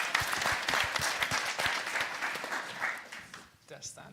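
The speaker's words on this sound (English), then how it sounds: "Please feel free to give me a round of applause" A round of applause from the audience at the Glasgow Tech Fest, a dense burst of clapping that thins and fades toward the end, with voices mixed in.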